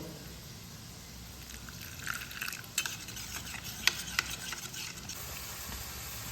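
Soft scraping and light clinks of a spoon stirring a thick paste of cumin and coriander powder mixed with water in a pan, with faint sizzling underneath and a few sharper taps.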